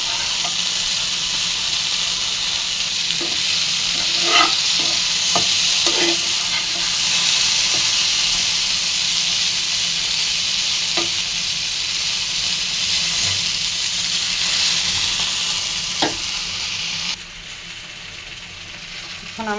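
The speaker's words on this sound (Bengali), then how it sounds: "ভেন্ডিটা আমি বেশি ভাজবো না, হালকা ভাজা দিই" Okra lightly frying in a pan for a fish-and-okra curry gives a steady, close sizzle and hiss for about twenty seconds, broken by scattered sharp ladle taps and scrapes as it is stirred, with no talking.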